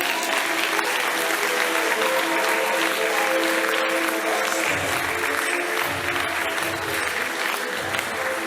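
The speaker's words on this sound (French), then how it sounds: "Veuillez les applaudir, messieurs, dames." An audience at the Miss Lens 2024 beauty pageant in Lens claps in dense, sustained applause that fills the hall without pause, with faint voices beneath it.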